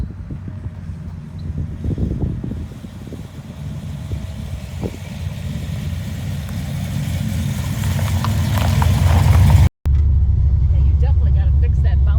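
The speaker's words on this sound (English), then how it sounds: "Rev limiter, so it doesn't go higher." A freshly built big block engine in a Chevrolet Caprice revved hard, rising toward the rev limiter; a loud, rough rumble climbs steadily, cuts out abruptly for a moment, then resumes as a steady drone, with voices partly over it.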